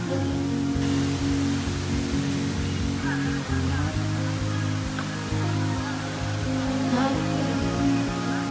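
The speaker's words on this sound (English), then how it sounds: "Well, we're done at the waterfall." At a waterfall in Jagna, Bohol, a constant broadband rush of falling water fills the scene evenly, with faint voices and other background sounds running through it.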